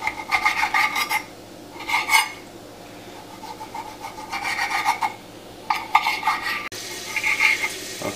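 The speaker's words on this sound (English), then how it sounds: "we're continuing here to cut up the salted pork" A knife works through salted pork on a cutting board, giving repeated rasping, scraping strokes in bursts with pauses between them, close and fairly quiet, with no talking.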